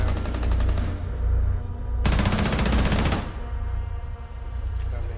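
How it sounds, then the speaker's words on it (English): Automatic gunfire in Rainbow Six Siege during a Tower team deathmatch: two sustained bursts of rapid machine-gun fire, loud and close, the second a tight one-second volley, over low game ambience. "They just walked into those bullets."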